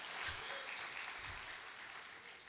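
Church congregation clapping in praise during a sermon, a fairly soft, steady patter of many hands that fades slightly toward the end.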